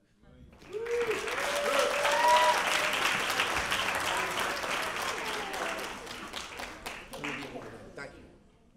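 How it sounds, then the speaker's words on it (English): Wedding reception guests break into applause that swells quickly and holds as a dense, lively round of clapping with some voices mixed in, then gradually thins and fades after about eight seconds. "let's give everyone a round of applause that came up and spoke"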